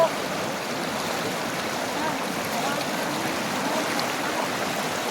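A continuous rush of flowing river water fills the scene, steady and close, with no pauses.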